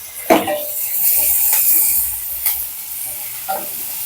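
Onion, garlic, green chilli and curry leaves sautéing in oil for a dry seer fish curry: a loud close hissing sizzle broken by several clear spoon strikes against the pan while stirring.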